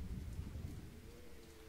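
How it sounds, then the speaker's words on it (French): Steady rain falls in Age of Empires II HD during the Agincourt mission, a continuous soft patter and wash with a low rumble underneath, heard alone. "La pluie tombe encore, dévastant les routes, les champs et les bois."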